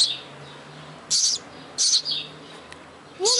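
High, bright chirps from a small bird in three or four short bursts, with a rising whistled call at the end, over a faint low hum.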